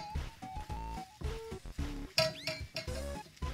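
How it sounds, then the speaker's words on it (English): A utensil stirs eggs in a dish for ramen, giving a series of short clinks and scrapes in uneven bursts, close and fairly quiet. "and then scramble up the eggs to a nice scrambling consistency"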